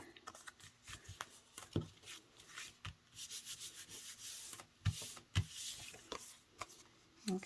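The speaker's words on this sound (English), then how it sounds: "And just feel where that score line is and fold it across the back." Soft, close rubbing and scraping as cardstock is folded along a score line and creased by hand for a double point fold card, quiet and intermittent with small taps.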